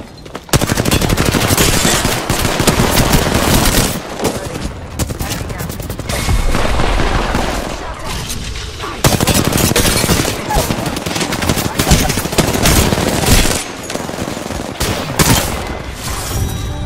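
Gunfire in the Apex Legends video game, loud sustained automatic bursts and rapid shots over about seventeen seconds with short pauses, close to the listener, with players talking at times.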